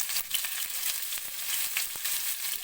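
Shallots hitting hot ghee in a pan and frying with a steady, bright sizzle and crackle. The sound is close and continuous, with no talking.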